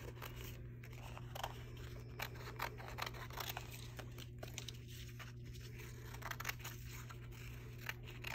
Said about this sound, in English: These are a little bit trickier to cut out